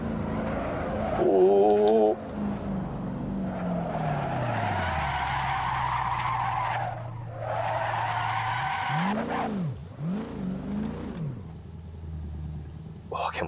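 A VN Commodore race car in Assetto Corsa at the Nurburgring roars through rising and falling engine revs, then its tires screech and skid in sweeping wails, while a man briefly exclaims.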